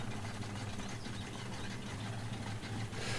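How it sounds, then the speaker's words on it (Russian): A ZIL truck idles in the off-road game SpinTires, its low, steady diesel-style throb chugging evenly and fairly quietly without a break. "Вот, звуки их двигателей тоже нравятся."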